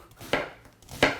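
A knife chopping a sweet onion on a board, two crisp separate cuts about two-thirds of a second apart, close and clear with no talking.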